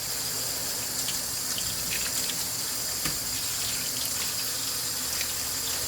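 Cold tap water runs steadily into a kitchen sink while shrimp are rinsed, a continuous close splashing gush with faint clinks and no talking.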